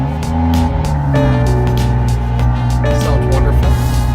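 A 2018 BMW 340i engine with the M Performance Power and Sound Kit starts up and runs with a loud, deep, steady rumble, its pitch shifting slightly as it settles.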